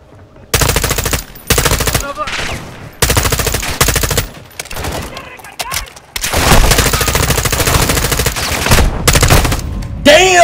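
Gunfire in the video game Call of Duty Modern Warfare 2 comes as loud, close bursts of rapid automatic shots separated by brief gaps, ending in a long sustained volley, with a voice speaking briefly between bursts.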